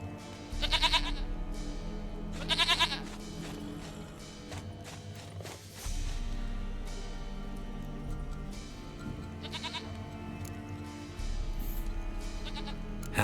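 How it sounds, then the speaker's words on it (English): Goats bleat in repeated short, quavering bursts over a steady game-world ambience and background music in The Witcher 3, with a few separate calls spaced across the scene. "Goat of mine, dearest, sweetest goat."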